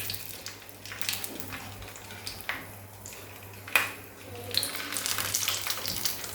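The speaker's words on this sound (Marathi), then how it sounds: "आता आपण एक एक मिरची फ्राय करायला घेऊया" Besan-stuffed green chilies fry one by one in hot mustard oil over a medium flame, giving a soft, steady sizzle with occasional sharper crackles and spatters, plus faint clinks of utensils.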